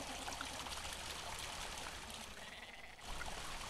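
Water trickles and streams steadily from a fountain in the video game Mundaun, a faint, continuous babbling flow with no speech.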